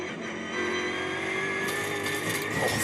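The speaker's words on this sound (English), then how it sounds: "Love this engine and all the noise from the gearbox." Onboard a GT4 race car at Spa, the engine drones at a steady, loud pitch under acceleration, with gearbox whine layered on top. The engine swells slightly after the opening half second.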